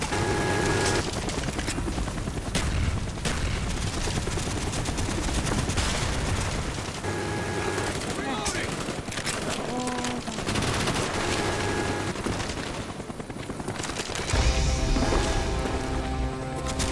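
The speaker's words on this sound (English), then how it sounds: "Cobra on the way." Cobra attack helicopter firing in Call of Duty: Black Ops, its steady rotor drone running under repeated bursts of loud machine-gun fire, continuous and close throughout.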